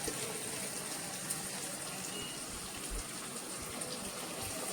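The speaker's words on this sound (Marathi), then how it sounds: "थोडंसं हे गरम पाणी आपण टाकणार आहोत" Hot water pours into a pan of rice rava upma with cashews, a soft continuous gush and hiss at low volume that stays steady throughout with no voices.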